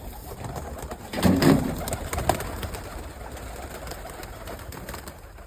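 Pigeons being fed grain in the evening give low, burbling coos close by, with a louder burst of cooing and fluttering early on, over a steady background hum.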